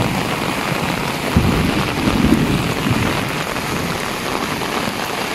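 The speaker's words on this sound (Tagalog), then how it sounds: "Sobrang lakas ng ulan ngayon." Heavy rain pours down steadily in Masbate, a dense, continuous roar of drops drumming on surfaces, close and loud throughout with a few low rumbling swells and no voices.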